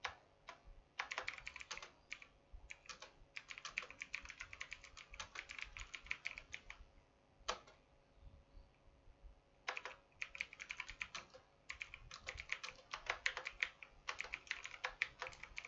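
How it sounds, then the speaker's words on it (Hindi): Typing on a computer keyboard while composing a document in WordPad: rapid bursts of crisp key clicks broken by short pauses, close and clear, with no voices. "कुछ और टाइप करते हैं थोड़ा सा।"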